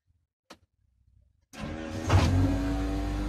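After a near-silent pause with a single faint click, a car's electric fuel pump primes as the ignition is switched on, starting abruptly as a steady electric whine and hum that swells briefly, then holds.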